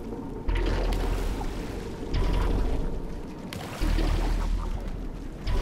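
Steady rushing water in Portal 2, a broadband wash that swells and recedes in three loud surges with brief dips between, playing alone without voices.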